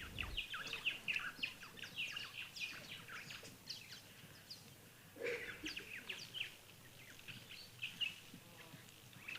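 Many birds chirp and trill together outdoors, a busy, continuous chorus of high calls at moderate distance with no voices.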